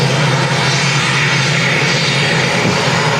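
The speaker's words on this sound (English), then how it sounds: "Yeah, Turkish 777 from Miami to Istanbul." A Turkish Airlines Boeing 777 passes overhead near Manchester Airport, a loud, steady jet engine roar filling the air evenly for the whole stretch.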